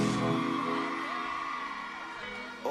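Dense concert crowd at a Reggae Sumfest dancehall night, loud and sustained whooping, screaming and cheering throughout, with a voice over the music-like roar.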